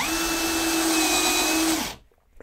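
Parkside cordless percussion drill driver whirring steadily at a constant pitch for nearly two seconds during a clutch test, then winding down abruptly into near silence; close and fairly loud, with no voices.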